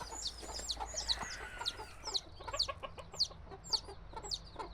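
Many small chicks peep in rapid, high chirps, overlapping with each other, along with some clucking, fairly close by.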